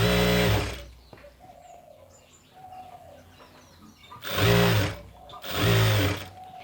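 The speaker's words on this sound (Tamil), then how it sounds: "மீதியை அப்படியே சும்மாவே தையல் போடணும்" A sewing machine in a tailoring setting stitches a chudi pant in three short, loud, close bursts; between them come quiet handling sounds and faint birdsong from outside.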